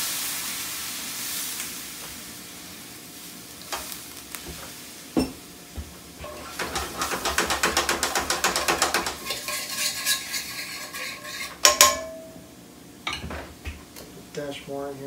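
White wine splashed into a hot sauté pan of mixed seafood, hissing and sizzling steadily up close while a utensil stirs and scrapes, with short metallic clinks and a louder burst of sizzle midway.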